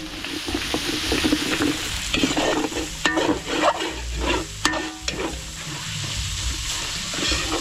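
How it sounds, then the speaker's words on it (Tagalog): Ground meat with garlic and onion sautéing in a pan at a catering kitchen, with a continuous close sizzle and busy repeated stirring and scraping of a utensil, no voices. "tinutosta ko yung giniling, bawang, sibuyas, sinasabay ko dito"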